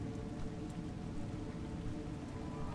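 Steady rain falls in the video game A Juggler's Tale, a continuous soft hiss of drops on surfaces, faint and even throughout with no speech.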